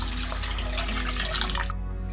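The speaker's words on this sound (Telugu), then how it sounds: "అందుకని 3 గ్లాసులు పోసుకుంటున్నాను వాటర్" Water poured from a glass into rice for cooking, a steady close splashing stream that stops abruptly near the end, leaving quiet.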